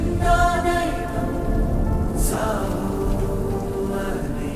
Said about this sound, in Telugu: పడింది వర్షం